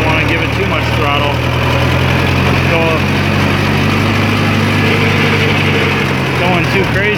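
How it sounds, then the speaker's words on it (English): A small engine idling steadily while the throttle is worked gently, a continuous close mechanical hum and vibration with only slight rises in pitch. "Don't want to give it too much throttle."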